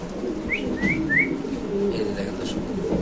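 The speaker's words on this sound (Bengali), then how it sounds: "এই কবুতর আমরা একটু নিচে ছাড়ি ভাই" King pigeons released onto the floor at a pigeon seller's stall give a few short, bright calls and a low coo over a steady murmur of background voices and noise.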